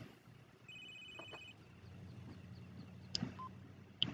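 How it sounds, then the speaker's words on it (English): A phone rings in the Sims 3 life-simulation game, a short electronic ringtone burst with a couple of brief chime-like tones afterward, fairly quiet under soft game ambience. "Answer phone, I guess."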